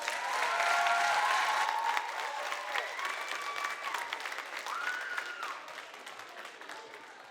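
Sustained applause from a student leadership conference audience for Mr. Page, dense clapping with a few whoops and cheers over it, loudest at the start and easing slightly toward the end.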